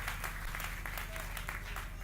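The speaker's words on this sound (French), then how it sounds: "Applaudissez très fort." A church congregation applauds, a steady wash of many hands clapping over a low hum, with voices mixed in beneath it.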